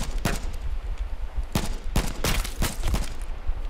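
Gunfire in the video game H1Z1, sharp shots in uneven bursts and single cracks over a steady background, with no talk.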